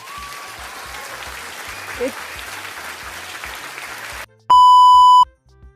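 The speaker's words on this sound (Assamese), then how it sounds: "প্ৰতিটো প্ৰশ্নৰ শুদ্ধ উত্তৰ দিয়াৰ বাবে আপোনালোক সকলোৰে বাবে অলপ হাত চাপৰি" Steady clapping lasts about four seconds and then stops abruptly, followed by a loud, sustained electronic beep.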